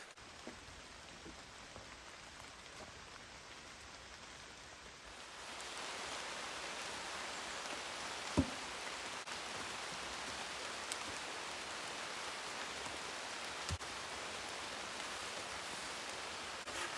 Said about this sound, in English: as it's pouring with rain